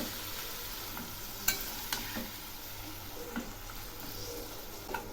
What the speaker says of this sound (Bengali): এবার আমি ম্যারিনেট করা মাংসগুলো ছেড়ে দিচ্ছি। একটু নেড়ে দিচ্ছি।